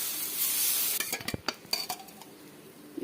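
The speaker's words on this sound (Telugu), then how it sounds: "ఇప్పుడు దోశ వేసుకుందాం. ఈ విధంగా ఒక గరిటె పిండి వేసుకొని" Dosa batter ladled onto a hot pan, a nuttу-spiced karam dosa in the making, gives a steady close hiss at first, then scraping and clinking of a ladle and utensils over a fading sizzle.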